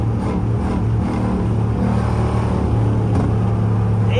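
A rebuilt Dodge Charger R/T engine roaring in a sustained low, heavy rumble, steady and loud up close, with the drone of the car's wheels spinning under it.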